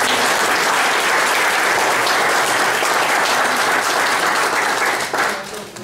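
A round of audience applause during a talk about death and disembodiment, dense sustained clapping from a crowd that holds loud and steady before tapering off at the end.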